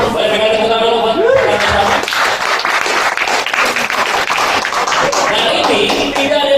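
Audience applause at an eco-farming talk about chili cultivation, a dense steady patter of many hands clapping throughout, with some voices and noise mixed in.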